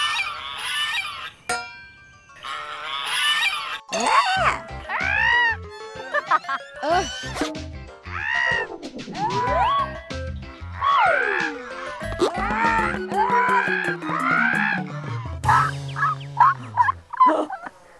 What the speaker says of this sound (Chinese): 大鹅怎么叫的？